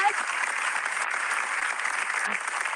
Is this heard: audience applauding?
yes